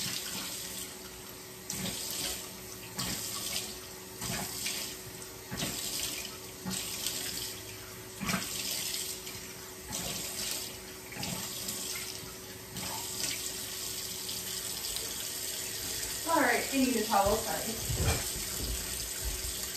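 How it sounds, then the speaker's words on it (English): A face is washed under a running bathroom tap, with water streaming steadily into the sink and splashing as hands scoop it, while a voice briefly talks near the end. "use some water and actually wash your face."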